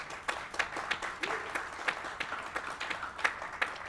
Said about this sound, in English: Clap for all of them.